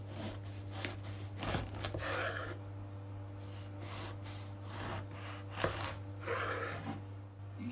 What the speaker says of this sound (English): Using a zester, we are going to scrape the very top of the skin, taking care to remove as little as possible and not to reach the white part.